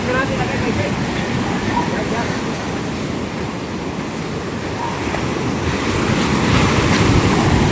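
Continuous roar of strong ocean surf as an approaching typhoon builds the waves, crashing steady and loud, with heavy wind buffeting the microphone throughout.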